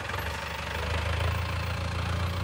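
A tractor engine runs steadily in a sugarcane field near Kolhapur, a low, even rumble with a slight knocking pulse at moderate distance, with no talking over it.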